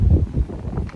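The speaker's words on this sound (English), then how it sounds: "it's kind of windy out here." Gusty outdoor wind buffeting a microphone on a gravel walk, a close low rumbling roar that swells and fades over a second, with no voice present.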